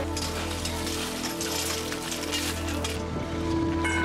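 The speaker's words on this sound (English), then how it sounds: "That is heavy rain." Steady, dense hiss of heavy rain pouring down on surfaces at a rally service park in Martigny, Switzerland, loud and unbroken throughout.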